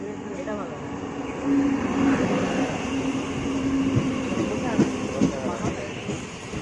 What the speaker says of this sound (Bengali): ট্রেনটাও ঢুকছে।